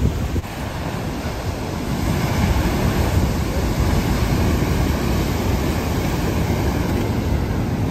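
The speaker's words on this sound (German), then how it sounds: "ich habe noch nie so große Wellen gesehen" Large ocean waves crash and roll as continuous heavy surf on the Cape Town coast, loud and close, with strong wind buffeting the microphone throughout and no voices.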